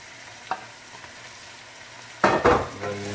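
Potatoes and zucchini are stirred together in a cooking pan. A faint background sizzle and a few soft taps lead into a burst of loud, close scraping and clattering near the end.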